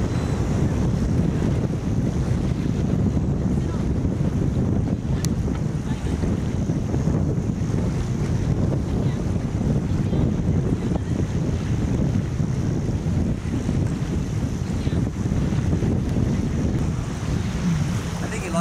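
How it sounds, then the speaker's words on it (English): Steady outdoor wind with heavy microphone buffeting at an Australia Day kite launch, a continuous loud rumbling roar that persists throughout with no clear speech. "I'm quite sure it's quite gusty actually."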